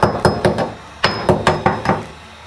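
A round-head hammer strikes a quartzite countertop to make a hole, with about nine sharp, ringing blows in an uneven rhythm, loud and close, with no voices.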